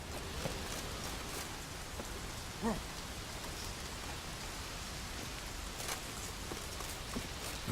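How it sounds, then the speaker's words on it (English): Steady rain falls in The Witcher 3 video game, a soft, continuous patter with faint scattered drops and a couple of brief thumps, fairly quiet throughout with no talking. "Looks like rain."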